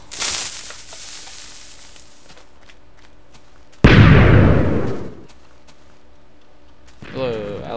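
A Minecraft TNT cannon fires with a single loud, booming blast midway that rumbles and fades over about a second, after softer game sounds and before a brief rustling swell at the end.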